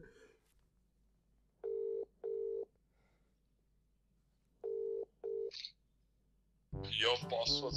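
A mobile phone dials out at three in the morning: four short dial tones in two pairs, then a brief beep and a burst of ringback or connection noise at the end, no talking over the tones.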